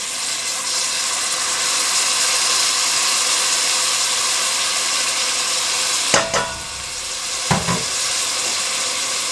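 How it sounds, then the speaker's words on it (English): Onions frying in a pot for homestyle potato soup, a steady dense sizzle held at close range, with two brief clanks of a utensil near the end and no voices. "Now we're going to cook these until they get soft and a little bit translucent"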